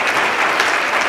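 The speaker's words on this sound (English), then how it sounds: "Can everyone give them a round of applause just for putting on this event?" A burst of loud, dense clapping from a crowd, continuous and even throughout the short moment.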